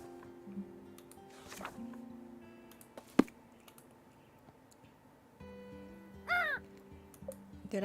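A crow caws in a cozy witch-life video game, a short rising call standing out near the middle over a soft ambient game soundscape with small ticks and chimes.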